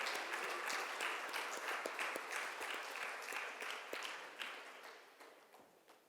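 Audience applause at a business networking meeting, a sustained patter of hand claps in a room that gradually fades out over several seconds, with no talking.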